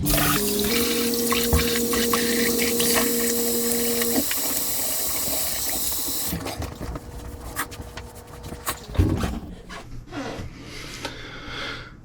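Tap water runs steadily for several seconds while someone rinses off after a wet shave, with splashing and dripping that shift in character partway through, heard alone without talk.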